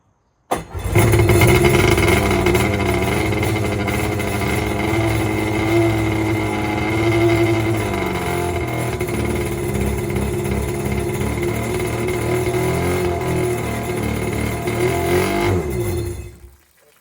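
A Seadoo GTI jet ski engine, freshly revived with new fuel lines and carb cleaner and smoking heavily, starts and runs loud and steady at close range for the whole stretch, with no talking over it.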